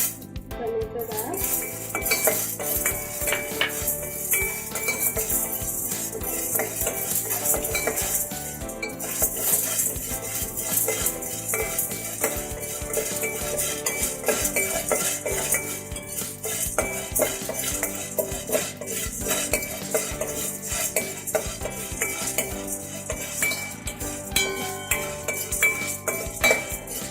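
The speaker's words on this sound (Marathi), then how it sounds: "व्यवस्थित हे सर्व जिन्नस छान भाजून घ्यायचं आहे" Chana dal dry-roasting in a kadhai, with a spoon scraping and clinking against the metal pan in a steady, busy rhythm that carries on for the whole stretch, close and fairly loud, with no talking.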